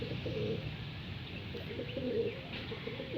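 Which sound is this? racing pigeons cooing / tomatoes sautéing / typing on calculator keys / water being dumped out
racing pigeons cooing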